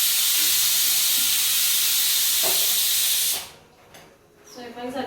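A pressure cooker cooking rice on a home stove gives off a loud, steady hiss of escaping steam for several seconds, then cuts off abruptly, leaving quieter kitchen sounds.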